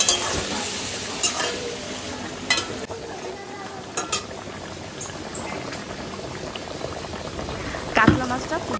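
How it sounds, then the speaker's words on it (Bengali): Prawn malai curry with fish bubbling and boiling in a pan, a continuous loud simmer and sizzle with occasional stirring clatter and a voice talking faintly in the background. "মাছটা ফুটে এসছে আর এখন হচ্ছে চিংড়ি মাছের মালাইকারি"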